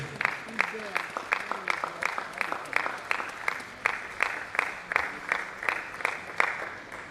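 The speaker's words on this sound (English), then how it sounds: "please put your hands together for him. Keep clapping till he comes up stage." Audience clapping at a World Mental Health Day lecture as a doctor is called up on stage, a steady, rhythmic round of many hands with the beats clearly marked and faint talk underneath.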